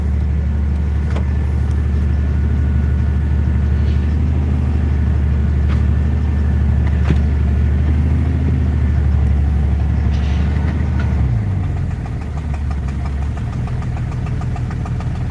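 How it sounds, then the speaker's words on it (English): A car engine idles too high after a new EGR valve was fitted, a loud steady mechanical drone with a faint ticking knock, before the revs drop audibly about two-thirds of the way through. "Thing's idling way high."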